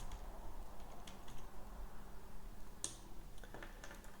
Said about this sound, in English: so I will type wallet